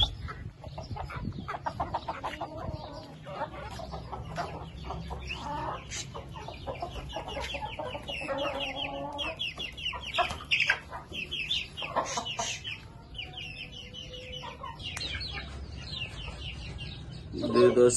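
Chickens and chicks cluck and cheep constantly inside a cage, close and busy, with clucks overlapping for the whole stretch and a voice faintly present at times.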